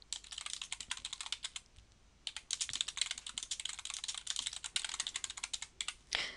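A forum message is typed on a computer keyboard in a quick, irregular run of close, crisp key clicks, with a brief pause before the typing resumes.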